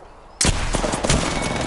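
Sudden loud gunfire in a PS4 shooter breaks out after a brief quiet moment, rapid bursts of shots crackling close together with heavy impacts and echo.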